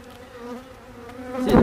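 Swarm of Italian honey bees buzzing with a steady, droning hum that swells louder near the end, with no talking.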